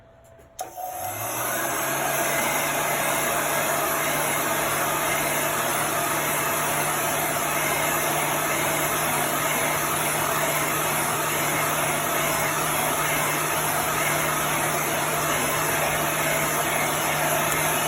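A dryer switches on after a brief quiet moment and blows air steadily to dry chalk paste, a loud, even whooshing hum with a constant tonal drone that continues uninterrupted to the end.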